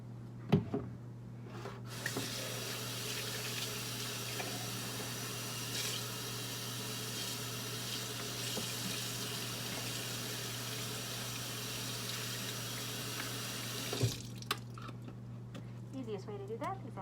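A kitchen tap runs steadily for about twelve seconds to rinse a jar used for storing homemade butter, a continuous close hiss of flowing water with faint splashes and an underlying hum.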